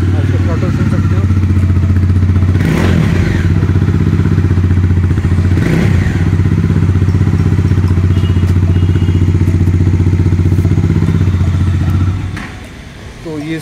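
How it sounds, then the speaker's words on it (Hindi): Bajaj Dominar 400 BS6 motorcycle idling with a deep steady engine hum, blipped twice with sharp throttle revs, then the engine note drops near the end. "आप थ्रॉटल सुन सकते हो,"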